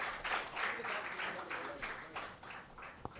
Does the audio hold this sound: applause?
yes